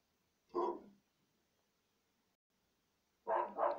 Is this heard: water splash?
no